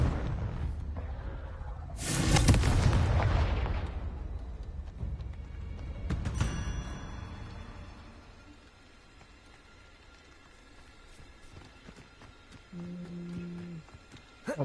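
A Confringo spell detonates in the Hogwarts Legacy video game with a loud, booming burst, and a second, smaller blast follows a few seconds later. Both fade into a quieter, rumbling game ambience.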